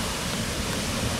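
Grand Geyser at Yellowstone emptying its basin after an eruption, a dense, continuous roar of rushing, splashing water like a waterfall, loud and unbroken.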